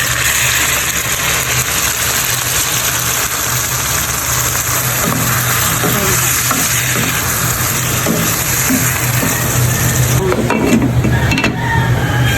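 Marinated pork for Filipino pork salpicao sizzling loudly in a hot pan with garlic and onion as it is stirred, a dense continuous frying hiss with occasional scraping, close up.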